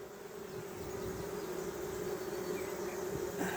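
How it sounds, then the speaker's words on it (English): Steady buzzing of many bees, a constant droning hum close by with no voices, a few individual insects passing near the end. "They are busy little bees."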